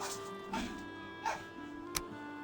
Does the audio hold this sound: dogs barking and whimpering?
yes